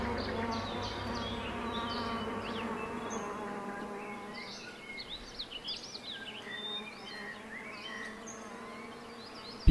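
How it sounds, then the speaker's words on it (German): Bees buzz close and loud in the video game Grim Facade 2, a continuous droning hum with wavering pitch, joined later by chirping bird-like calls as the buzz fades slightly, with no talk. "Bienen! Ich hasse Bienen."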